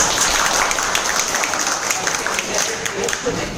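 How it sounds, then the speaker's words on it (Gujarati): A crowd at a business gathering in a hotel hall claps steadily for a named member, a dense, continuous patter of many hands, fairly loud, with voices murmuring underneath. "આજે રોશનભાઈ માટે એક તાળી થઈ જાય"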